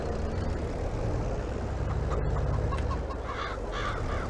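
Soft, intermittent chicken clucks over a steady low engine-like hum, farm ambience from Farming Simulator 22 with no talking.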